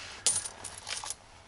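A handful of coins, some of them silver, clink and jingle in a quick close metallic rattle lasting about a second, with no talk.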